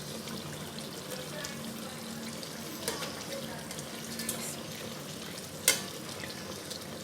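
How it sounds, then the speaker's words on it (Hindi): Chicken pieces fry in a small pot for an Afghani chicken dish, a steady low sizzle and bubbling running throughout, with a faint clink or stir near the end. "अभी पहले ये फ्राई करेंगे"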